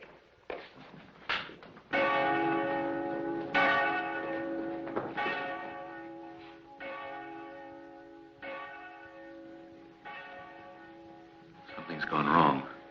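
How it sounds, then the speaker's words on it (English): A heavy bell is rung as an alarm in a Wild West town, with about nine loud, resonant clangs at uneven intervals, each ringing out and decaying into the next. "To ring that bell now would be a serious mistake."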